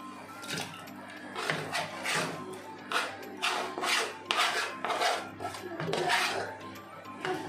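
A spoon stirs grated jaggery into hot water in a bowl, making repeated rhythmic scraping and rasping strokes, close and fairly quiet.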